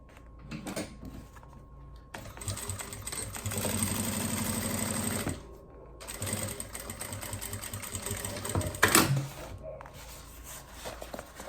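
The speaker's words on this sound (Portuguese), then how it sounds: "vou alinhar aqui, ó, nessa lateral e vou costurar daqui de cima até encontrar na costura aqui" Domestic sewing machine stitching a side seam on a small fabric cosmetic pouch, running in several bursts of steady rapid whirring with short pauses between, close and moderately loud.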